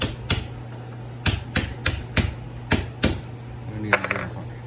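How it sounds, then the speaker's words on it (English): A hammer strikes a metal punch to knock copper wire out of a scrap transformer. There are about nine sharp, ringing metallic blows at an uneven pace over a low steady hum, and a brief voice follows near the end. "And I will take my punch and hammer"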